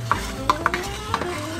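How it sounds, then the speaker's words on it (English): Food being stirred and mashed in a pot during a home Christmas dinner, with close, rhythmic scraping strokes and soft thuds over a steady kitchen background hum. "Stirring and mashing is happening."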